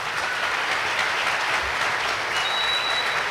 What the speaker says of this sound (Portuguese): Um aplauso aí.